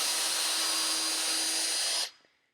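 A power drill whines at a steady high pitch while pre-drilling a hole in a wooden board for a trailer brace, running close and loud for about two seconds before cutting off abruptly.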